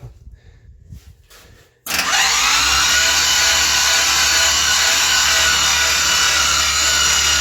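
Chevrolet 383 V8 engine cranking over on a low battery, a loud sustained grinding starter whir that kicks in suddenly after a few quiet seconds and runs on without catching.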